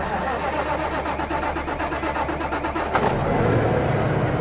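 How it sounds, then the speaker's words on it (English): A keyless semi-truck tractor, started by holding the start button, cranks with rapid rhythmic pulses for about three seconds, then catches and settles into a steady, close diesel rumble. "hold it for a minimum of 8 seconds to start the truck the very"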